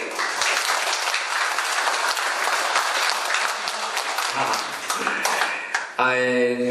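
Audience clapping at a lecture in a temple hall, a dense sustained round of applause that carries on for several seconds before cutting to a brief tonal noise at the end.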